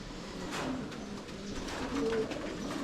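Racing pigeons cooing in a loft in San Pablo City, the Philippines: soft, low, repeated coos from several birds, continuous at a moderate level with no talk.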